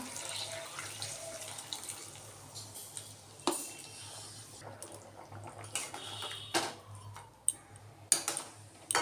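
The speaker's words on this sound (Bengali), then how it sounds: "এখন একটু গরম জল অ্যাড করে দেবার মতো" Hot water is poured into spiced meat that has been browned in a home kitchen pan, a soft running splash with scattered clinks and taps, fairly close and quiet.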